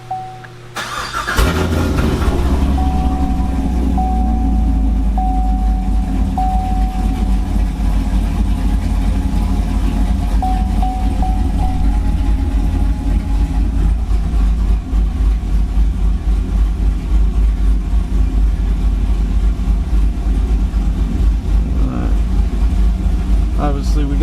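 A Camaro's 5.7 V8 cranks briefly, then catches and settles into a loud, deep, steady idle, running close with a slight lope, with speech present under the engine.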